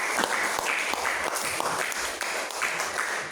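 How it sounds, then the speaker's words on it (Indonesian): A class claps for a student group after its presentation: dense, steady applause from many hands close by, filling the whole stretch with no talk over it. "mari kita beri tepuk tangan untuk kelompok 1."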